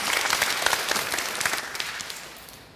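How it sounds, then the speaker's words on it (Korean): A seated audience gives brief, lively applause before a doctor's lecture on integrative medicine and longevity, with the clapping tapering off quickly. "큰 박수와 함께 오늘 강연 들어보겠습니다."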